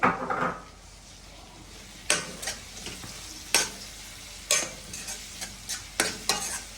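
A fish curry masala with fenugreek and cumin fries in a pan under a soft sizzle, while a spoon strikes and scrapes the pan in sharp, irregular clacks close by.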